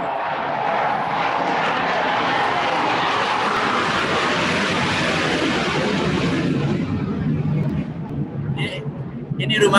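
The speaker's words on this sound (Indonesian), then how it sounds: "Pesawat ternyata." An airplane passes overhead with a loud, steady broadband engine roar that fills most of the stretch and then fades away, while someone speaks faintly near the end.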